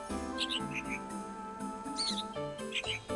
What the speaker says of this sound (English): The sound engineering, the squirrels, the birds, all this again like animated and rendered